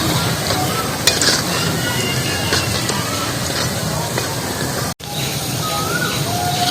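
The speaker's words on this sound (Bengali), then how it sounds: "পকোড়াটা আমার লাল লাল করে ভাজা হয়ে গেছে, এবার তুলে নেবো।" Potato pakoras deep-fry in hot oil, giving a loud, steady sizzle and bubbling with occasional stirring clinks, while voices murmur faintly in the background.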